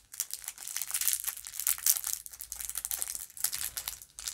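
Plastic packaging for Valentine's Day goodie bags crinkles and crackles almost continuously, close and crisp, with irregular bursts of crumpling and only short pauses.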